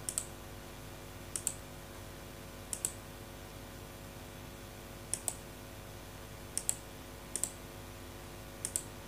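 A computer mouse clicks while a poster is edited on screen, sounding as paired quick clicks repeated about seven times at irregular intervals, faint and close against a quiet background hum, with no talk.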